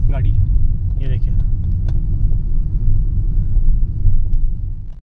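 Tata Altroz hatchback driving up hill roads, a heavy low cabin rumble of engine and tyres running steadily the whole time, with a voice briefly talking over it near the start.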